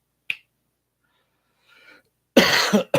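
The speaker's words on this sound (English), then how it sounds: "I still have a little bit of the cough left too." A sharp snap, then a faint rustle, followed by a loud, close cough burst and a second cough starting at the end.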